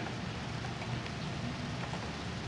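Steady rain falls outdoors beside a RAM 2500 4x4 Cummins pickup, a constant dense hiss with no gaps and no voices.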